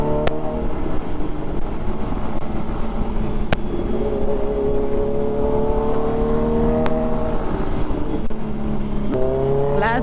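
Kawasaki Z900 with an Arrow full-system exhaust rumbles at a steady idle up close, then gets revved twice, pitch climbing and dropping with crackling pops in between.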